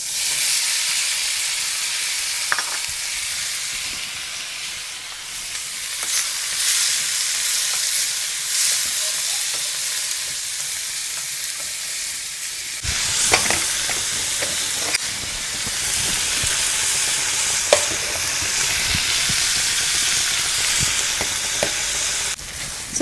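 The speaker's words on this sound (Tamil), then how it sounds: "வெங்காயம் தக்காளி கட் பண்ணி வச்சுருக்கேன் பெரிய வெங்காயம் தான் எடுத்திருக்கேன் ஸோ ரெண்டுமே ஒன்றா சேர்த்து வதக்க போகிறேன்" Chopped large onions and tomatoes sauté together in a pan with a steady, loud sizzle and hiss, broken by scattered clicks of stirring; the frying grows brighter and more intense about halfway through.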